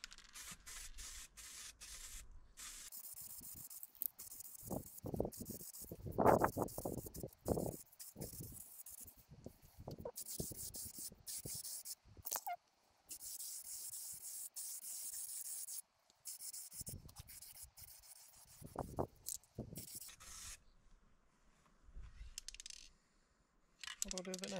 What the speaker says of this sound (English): So trusty old matte spray paint. Just going to give it a little coat before I put it up there.